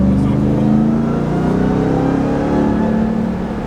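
A 2021 Dodge Ram TRX pickup truck accelerates hard with a loud, continuous engine roar heard from close inside the cab, holding steady and strong throughout.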